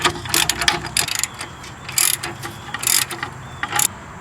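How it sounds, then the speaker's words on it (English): A socket ratchet with an extension clicks in quick bursts while loosening a 21mm bolt on the front lower control arm of a 2010 Nissan Rogue, the loud pawl chatter coming in rapid swings with brief pauses between. "Using a 21mm, I'm going to loosen and remove this bolt using my socket, ratchet, and extension."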